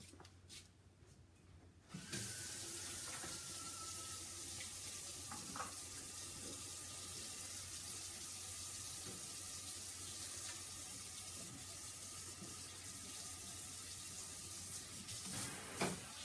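A paint brush dipped and rinsed in a container of water while crafting with a chalk transfer, a steady close swishing and trickling wash that runs on at an even level, with faint clicks and handling noises.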